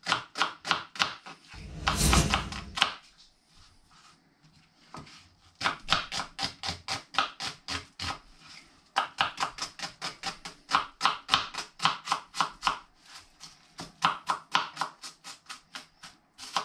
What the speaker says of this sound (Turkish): soğanlarımızı doğrayacağız